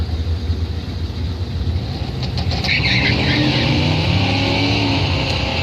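Drag race cars launching side by side at Northern Michigan Dragway during a bracket round, one entry an S10, giving a loud sustained engine roar that swells midway and holds steady with crowd and track ambience.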